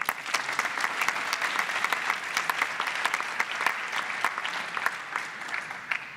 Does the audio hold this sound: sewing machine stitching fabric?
no